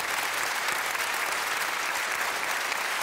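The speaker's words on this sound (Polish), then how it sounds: "Duże brawa, piękna kolęda." Audience applause after a Christmas carol at a festive concert, a dense, steady clapping that fills the room evenly from start to end with no voices.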